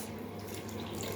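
Tap water runs steadily into a cooking pot in a home kitchen, a close, even splashing stream that continues without a break, with no talking over it.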